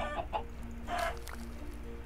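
A chicken clucking in Minecraft with the Village Defender mod, a few short close clucks followed by a louder burst, then quieter scattered clucks over a low background hum.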